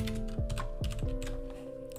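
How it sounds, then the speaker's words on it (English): Computer keyboard typing in a few quick, soft, close keystrokes, quiet and alone with no voices. "So let's start with typing a text."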